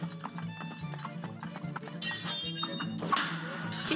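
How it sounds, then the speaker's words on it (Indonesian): Cartoonish horse or donkey clip-clop hoofbeats and a whinny from a boss fight in the video game Cuphead's DLC, tapping rhythmically over game music at moderate volume, with a brighter burst near the end. "Ini keledai kah guys? Atau kuda ya?"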